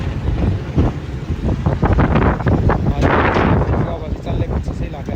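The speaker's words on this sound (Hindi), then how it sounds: "हवा चल ले रही है" Wind blows hard across the microphone in a heavy, fluctuating rumble, with people talking beneath it.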